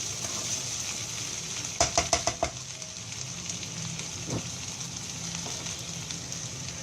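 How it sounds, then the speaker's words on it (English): Capsicum rice stir-frying in an uncovered pan gives a soft, steady sizzle, with a quick run of four or five scraping stirs partway through. "You don't have to cover this dish. Just keep stirring. It's like a stir fry."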